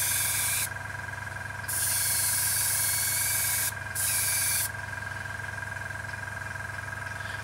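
An airbrush sprays paint onto a 1/48 scale Messerschmitt Bf 109G-6 model in two short bursts of bright hiss, over the steady hum of a running compressor.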